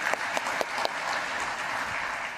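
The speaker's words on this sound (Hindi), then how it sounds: "तो एक बार जोरदार तालियां हो जाए दोनों के लिए" A seminar audience gives loud, continuous applause, with a few sharper claps standing out at the start before the sound settles into an even wash.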